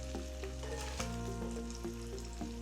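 Salted squid fries briefly in hot oil, giving a steady crackling sizzle broken by light knocks and stirring, with a faint tonal hum underneath and no voices.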